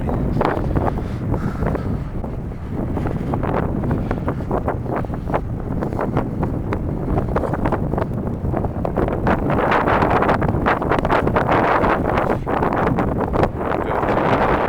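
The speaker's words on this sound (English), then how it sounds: "It does get a little windier here" Strong wind buffets the microphone on the open outside deck of the Washington State Ferries vessel M/V Puyallup, a loud continuous roar and rumble with gusty surges and no talking throughout.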